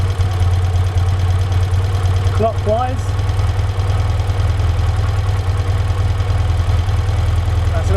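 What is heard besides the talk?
BMW R75/6 boxer motorcycle engine idling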